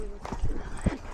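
A pony's hooves thud close and heavy in a quick, uneven galloping rhythm on an outdoor trail ride, a few strong strikes near a small puddle of water, with faint voices in the background.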